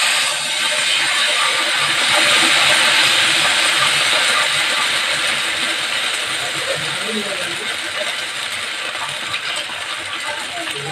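Thin neer dosa batter poured gradually onto a hot pan gives a steady, loud hiss and sizzle lasting throughout, with faint crackles on top.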